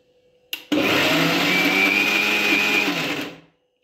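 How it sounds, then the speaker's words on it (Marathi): Kitchen mixer grinder churning milk cream in its large jar, a loud steady whine starting abruptly and running about three seconds before cutting off. "पाच सेकंद मलाई मिक्सरला फिरवून घ्यायची आहे।"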